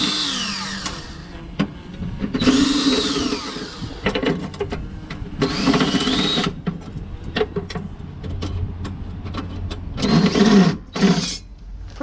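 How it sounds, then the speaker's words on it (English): A cordless drill backs out the screws holding a car headlight, with several short whirring bursts broken by pauses and small clicks and clatter, close and fairly loud. "Now we'll go ahead and use the cordless."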